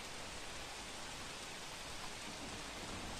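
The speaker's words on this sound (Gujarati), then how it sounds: "સુરતમાં ધોધમાર વરસાદ વરસી રહ્યો છે" Heavy monsoon downpour over Surat city, a dense, unbroken hiss of rain that stays even and steady throughout, fairly faint with no voices.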